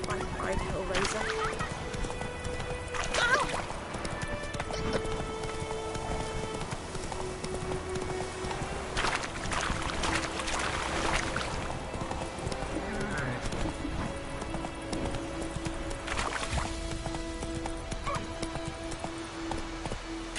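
Roach the horse gallops in The Witcher game, with steady close hoofbeats running through the whole stretch, an occasional whinny, and voices speaking over it.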